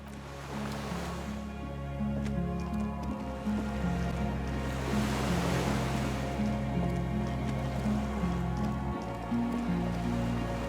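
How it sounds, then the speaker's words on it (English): Waves lap around a small skiff moored by a dock in the game Disco Elysium, with a steady watery wash under a low, continuous tonal background and no talk. "The skiff is swaying on the waves by the dock."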